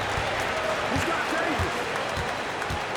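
Steady roar of a basketball arena crowd at the Staples Center in NBA 2K22, a Lakers home game against the Nets, building in anticipation before tip-off with dull ball bounces thudding underneath.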